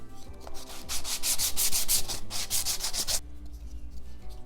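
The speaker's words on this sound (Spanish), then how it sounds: "aquí tenemos ya nuestros dos tacos de lija hechos con trozos sobrantes de roble para el grande y una mezcla de cedro" A homemade sanding block cut from leftover oak rubs back and forth along wooden edges in a quick series of close, loud, scratchy strokes, then stops, leaving only quiet room noise.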